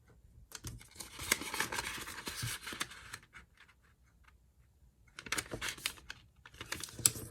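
Paper being folded for an origami renzuru of four connected cranes, with close, crisp crinkling and scraping in two bursts separated by a quiet pause.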